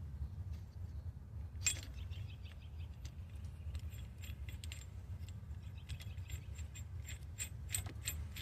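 Ratchet tightening a part on a Ford Mustang, faint rapid mechanical clicking bursts recurring over low steady background hum, no talking.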